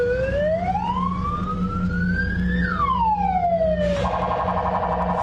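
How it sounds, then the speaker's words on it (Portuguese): Police-style siren on a fake police pickup truck wails upward and back down in one long sweep, then switches abruptly to a faster, steadier tone, loud and continuous over a low road rumble. "As luzes e a sirene usadas enganaram motoristas que pensavam se tratar de"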